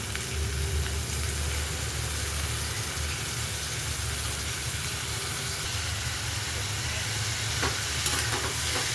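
Ivy gourd (tondli) frying and being stirred in a pan, a steady broadband sizzle with low rumbling that holds even and close throughout, with no talk.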